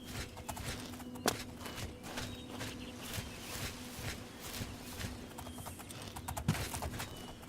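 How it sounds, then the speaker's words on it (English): Horse hooves clip-clopping in a fantasy role-playing game, a quick rhythmic patter that stays fairly quiet and even, with a couple of sharp thuds, as a mounted messenger rides past. "A messenger just ran by me on a horse."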